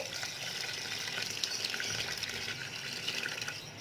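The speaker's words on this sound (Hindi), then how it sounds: "अब मैं इसमें 1 लीटर पानी डाल दूंगी" Steady rushing water pours continuously into a cooking pot, about a litre, a broad even gush with no voices.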